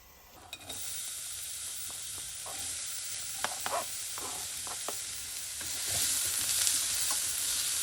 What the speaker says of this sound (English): So I'm going to put our garlic in and then our onion.